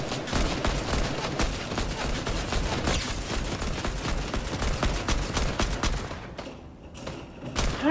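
Gunfire in the video game Fortnite, a dense, continuous run of rapid shots and bursts filling the whole stretch at close range, easing briefly near the end.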